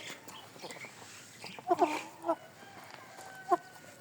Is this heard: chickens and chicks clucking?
yes